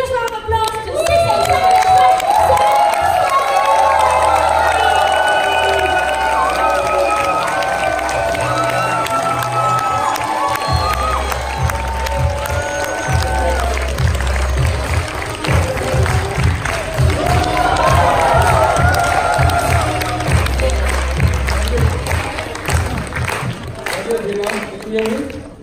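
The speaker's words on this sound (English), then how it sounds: "please put your hands together and give the biggest round of applause" An audience cheers and applauds for a speaker at a training event, the clapping and shouts continuous and loud but mixed under booming, rhythmic music.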